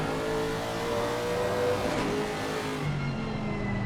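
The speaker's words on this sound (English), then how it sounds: "that turbocharged BMW engine, especially when verticality comes into consideration, is doing quite a heavy favour here for Brooklyn Donkin" Turbocharged BMW-engined race car at the Red Bull Ring, a loud, close engine drone held steady with rising and falling revs throughout, a second engine note joining near the end.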